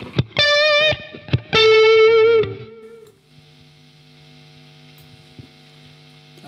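A guitar through a Boss Katana 100 amp with booster and raised gain plays two short distorted notes, then rings out into a low, steady amp hum.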